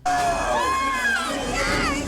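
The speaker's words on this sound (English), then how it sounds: "The prisoners cheer them on" Prisoners cheer in a 1993 Super Mario Bros. movie scene, a loud, excited burst of mixed shouting and high-pitched whoops from a crowd, continuous and close.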